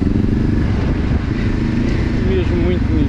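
A motorcycle engine drones steadily and loudly while riding through a sandy trail section, held at constant throttle with a rough, continuous rumble and no pauses.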